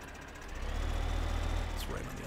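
A tractor engine in Farming Simulator 15 rumbles with a steady, low, loud drone that swells slightly and holds throughout, with a brief high sweep near the end.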